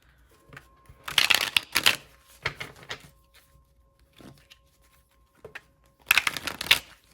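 Tarot cards being riffle-shuffled in three quick bursts, crisp fluttering rattles with short pauses between, close by and fairly loud.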